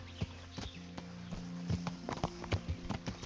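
Horse hooves plod irregularly in the video game Kingdom Come Deliverance as the horse struggles over difficult ground, a series of close, uneven clip-clop steps with no voices.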